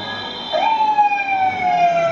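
A police car siren wails loud and close, rising into a sustained tone that slowly glides downward.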